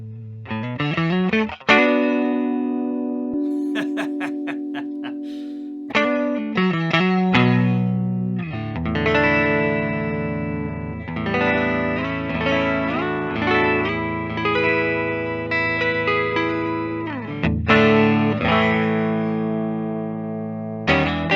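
Distorted electric guitar on the neck pickup of a 2021 Gibson Les Paul fitted with Telecaster pickups plays chords and riffs with a warm, round tone, ringing notes sustaining between strums, alone with no talking.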